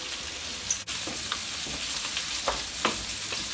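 Chicken casserole browns in a pan on a hob, a moderate continuous sizzle with a few soft stirring scrapes and one sharp knock, heard close with no speech.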